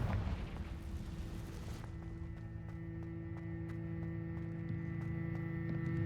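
A Confringo blasting spell goes off in Hogwarts Legacy, a booming explosive burst with a rumbling low tail that quickly settles into a quieter game ambience.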